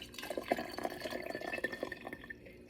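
Beef bone broth poured slowly from a pot into jars in a home kitchen, a steady close trickle of liquid broken by soft splashes and drips, with no talking.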